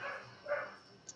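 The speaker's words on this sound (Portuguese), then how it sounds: "Ignorem meu cachorro latindo" A pet dog barks indoors, two or three short, fairly faint barks against a quiet room background.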